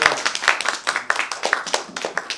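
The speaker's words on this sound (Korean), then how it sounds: "박수 부탁드립니다" Applause from an audience at a VIP listening event for a JBL Summit loudspeaker launch, with scattered, fairly faint claps in an uneven rhythm through a brief stretch.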